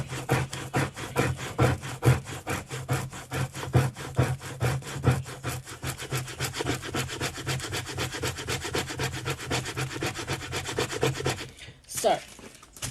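A plastic scraper rubs transfer tape down onto Cricut vinyl in fast, steady back-and-forth strokes, a close, continuous rasping scrape that stops near the end with a brief rustle.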